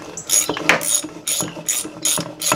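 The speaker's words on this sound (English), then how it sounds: "Let's try a pulley puller." Pulley puller working a pulley off a dust collector motor, a close, loud burst of ratcheting clicks repeated in quick bursts, no talk.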